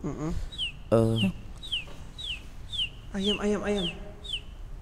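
A chicken clucks repeatedly in short, high calls, with a louder squawk partway through and a voice murmuring underneath.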